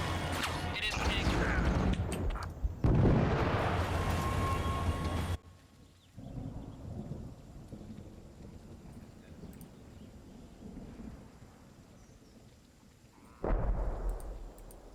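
A tank in a war video game fires its cannon, with heavy booming blasts and a rumbling roar at the start, a quieter mechanical drone in the middle, and another loud burst near the end.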